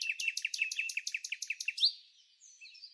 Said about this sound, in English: the musical, white-faced whistling duck